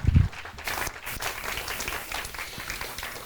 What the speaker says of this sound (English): let's give all of our speakers today a great round of applause.